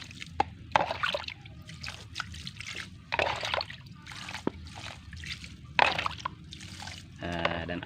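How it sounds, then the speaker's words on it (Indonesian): Water is poured over the soil of a newly planted, potted air-layered plant, giving close trickles, drips and small splashes in uneven bursts, with a soft rustle at the end. "kita siram lagi"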